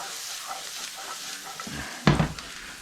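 Corn frying in a pan gives a soft continuous sizzle, then a louder burst of crackling and scraping near the end as the pan is stirred or shifted, with no speech.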